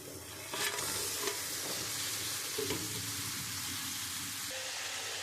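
Boal fish heads stir-fry in a spice mixture in a pan, giving a continuous close sizzle broken by several stirring scrapes and clinks.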